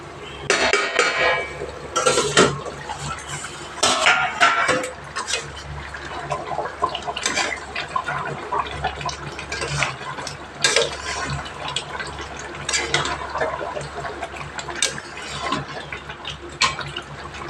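Water poured into a pot of jackfruit curry on the stove, a steady wash of splashing and trickling with some clinks of metal cookware, continuing through most of the stretch at moderate loudness.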